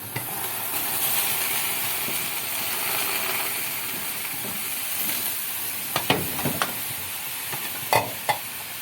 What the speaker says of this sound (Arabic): السمنه بقى بتفور ازاي جميله عشان سمنه بلدي